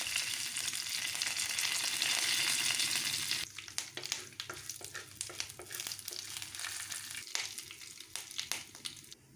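A tempering of cumin, chana dal, curry leaves and dried red chillies sizzles loudly in hot oil at first, then settles into quieter crackling and popping with stirring scrapes.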